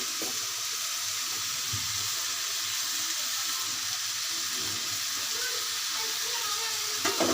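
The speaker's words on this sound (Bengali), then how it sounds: "দেখুন আমি ভালো করে নাড়িয়ে নেব" Cauliflower and shrimp fry in a pan, giving a steady soft sizzle with faint scrapes and clinks of stirring throughout, ending in a couple of louder utensil knocks.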